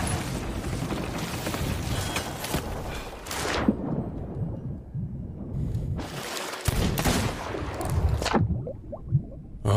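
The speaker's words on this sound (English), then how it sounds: "Shoot the gun." Gunfire and booming cannon-like blasts in the pirate video game Sea of Thieves, loud dense volleys in two bursts separated by a quieter lull, with a rumbling low end.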